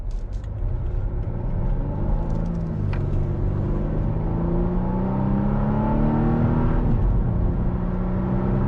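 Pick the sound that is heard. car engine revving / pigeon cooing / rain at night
car engine revving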